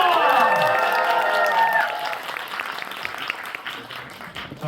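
Theater audience at a stage greeting for a play bursting into loud applause with cheers, strongest at the start and then tapering into thinner scattered clapping, with voices mixed in.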